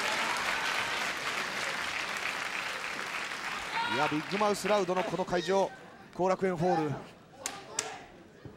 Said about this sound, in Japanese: ファンから大きな拍手が巻き起こっています